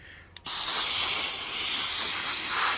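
Aerosol can of universal carb and choke cleaner spraying onto a fuel pump from a Nissan 300ZX, a sudden loud steady hiss that starts abruptly and continues close up.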